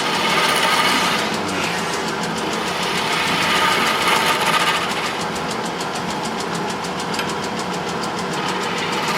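A skew chisel cuts a long thin wood spindle on a lathe, a loud steady whirring scrape with a rumbling motor underneath, continuous for the whole stretch and with no voices.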